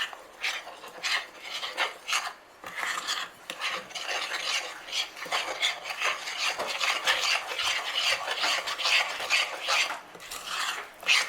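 Marble brownie batter is mixed by hand in a bowl with quick, repeated scraping and stirring strokes in an irregular rhythm, close and moderately quiet, with no talking.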